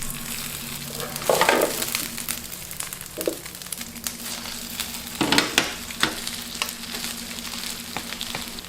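Bread frying in a covered pan after being flipped to cook its other side, a steady sizzle with a low hum underneath, broken by a few louder scraping or stirring bursts near the start and middle.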